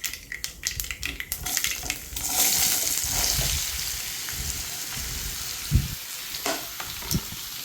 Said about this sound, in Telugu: పోపులో ఆనపకాయ ముక్కలు వేసేసుకుందాం